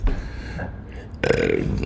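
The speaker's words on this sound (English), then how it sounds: "belching and burping over here." A man recovering at home after hip replacement surgery lets out a loud, close burp, a short throaty eruption that rises sharply after a quieter moment of low room noise.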